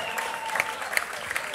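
An audience at a live jazz concert applauds a saxophonist. The clapping is dense and sustained, with a few sharper claps standing out near the front.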